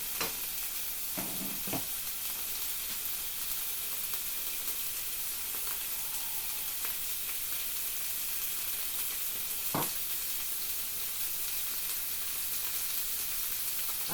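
Braised pork fries in a pan with a steady, close sizzle, broken by a few sharp spitting pops from the hot fat.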